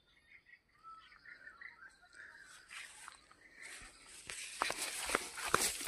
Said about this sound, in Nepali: चराहरू त कराइरहेका छन्